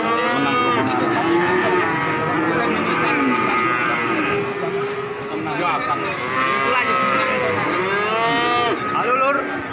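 Limousin cattle at the Wagenan Margorejo cow market moo loudly and repeatedly, several animals overlapping in long drawn calls over a constant bustling background.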